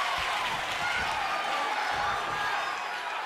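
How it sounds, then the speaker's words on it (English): Wrestling arena crowd roaring continuously at a showdown event, a dense wall of cheering and applause that stays steady and loud throughout, with no clear break. "this crowd is going crazy for Bishop"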